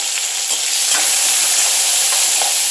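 Steady, loud sizzling of small onions frying in a hot pan, a continuous crackling hiss with occasional stirring scrapes.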